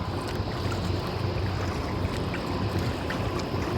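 A twin-engine boat passes on the Mississippi River, its engines droning steadily on the water, with wind buffeting the microphone and a constant low rumble throughout.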